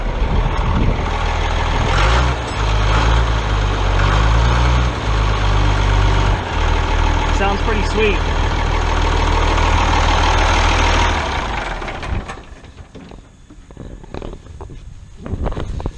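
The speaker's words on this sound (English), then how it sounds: "Go ahead and rev it up a little bit." A Ford farm tractor engine runs loud and close, with a heavy low rumble that revs up and holds steady before easing back toward idle near the end. A person speaks briefly.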